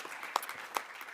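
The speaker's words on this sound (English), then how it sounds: "a round of applause for everyone that's ended up on the finalists tonight" Applause from the audience at an awards ceremony, a steady wash of clapping with a few sharper claps standing out over about a second, with no talking.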